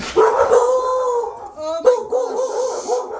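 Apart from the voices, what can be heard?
dogs barking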